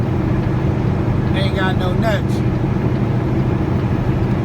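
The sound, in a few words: semi truck with big Cummins engine driving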